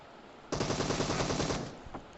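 Rapid automatic gunfire in a video game match erupts abruptly, a dense sustained burst of loud shots lasting over a second, then trails off with one last isolated shot.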